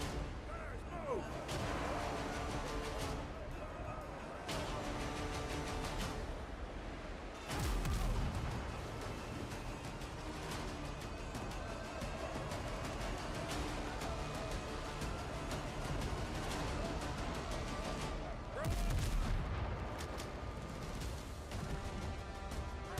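Ship cannons fire during a naval battle in the Windrose pirate game, heavy booming volleys recurring over continuous sea and battle ambience, with two especially loud broadside blasts.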